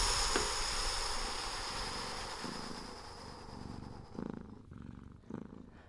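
A cat purrs in a soft, rhythmic rumble with regular breathing pulses, close and steady, fading toward quieter cycles near the end.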